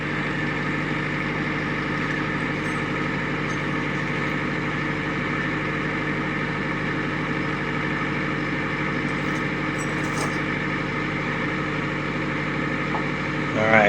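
A tractor engine runs at a steady idle throughout, a constant close mechanical drone with no change in pace from start to finish.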